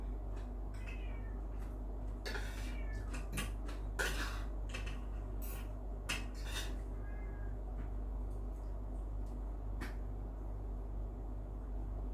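Several short kitten meows, fairly close, scattered over a steady low hum with faint clinks of kitchenware.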